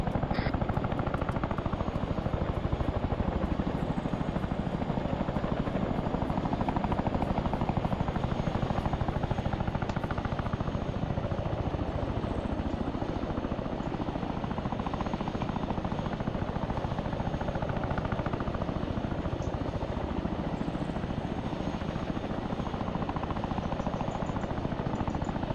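A Chinook helicopter in a video game thunders with a steady engine roar and rapid rotor chop, loud and constant throughout, with faint distant clatter in the background.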